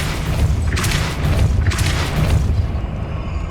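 Depulso force spells cast in the Hogwarts Legacy video game, two deep booming blasts about a second apart over a rumbling low background.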